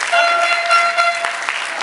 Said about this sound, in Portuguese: Então, palmas para ela.